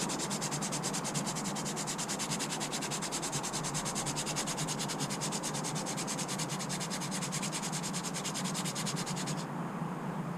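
Brake rotors being sanded to clean them, a continuous, even scrubbing rasp with fast strokes, loud and close with no talk.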